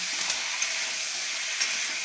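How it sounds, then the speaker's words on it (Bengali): Cauliflower fries in hot oil in a pan with a continuous bright sizzling hiss and a few soft stirring clicks, close and steady, with nobody talking. "এবার ফুলকপিগুলোকে ভাজা করবো।"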